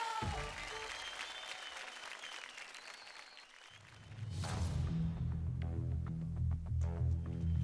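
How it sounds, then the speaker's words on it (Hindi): An audience at a televised kids' dance competition claps loudly and steadily for several seconds, then the applause gives way to music starting up. "तो जोरदार तालियां हो जाए"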